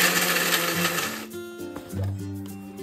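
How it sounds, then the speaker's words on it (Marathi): A kitchen mixer grinder whirs as it grinds garlic, green chillies and peanuts into a paste, first as a loud, rough roar, then as a steadier, humming motor tone with changing pitch. "आता ना हे आपण मिक्सर मधून वाटून याचं वाटण तयार करून घ्यायचंय"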